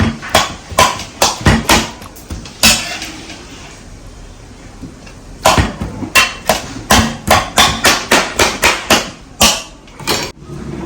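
Cooked raw banana being crushed in a kitchen, a loud series of repeated thuds in quick bursts with short pauses between them.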